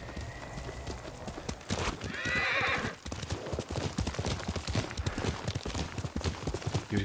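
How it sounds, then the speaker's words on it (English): Hooves of a horse in the Ghost of Tsushima video game clip-clop steadily and close by, with a short whinnying neigh rising in the middle of the trotting rhythm. "Yuriko's horse."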